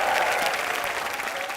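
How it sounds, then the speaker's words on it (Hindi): Steady, enthusiastic applause from a television studio audience, many hands clapping together at an even volume throughout. "जोरदार तालियां और एक बार"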